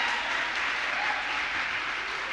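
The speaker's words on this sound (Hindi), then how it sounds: "पूरी माताओं और बहनों को ताली बजानी चाहिए उनके लिए।" Sustained, dense applause from a gathered audience at a Jain religious discourse, steady and fairly loud throughout with no clear gaps.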